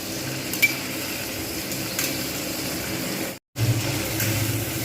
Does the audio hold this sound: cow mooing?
no